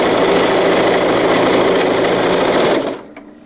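Sewing machine running a zigzag stitch along a zippered wetbag, a close, loud, fast continuous whir that stops abruptly near the end.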